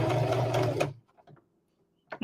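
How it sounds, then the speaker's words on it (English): A sewing machine stitches a quarter-inch seam on a Christmas stocking, running with a steady, loud whir for almost a second before stopping. A few faint clicks follow, and then a short burst of noise. "And we're going to sew our 1/4 inch seam."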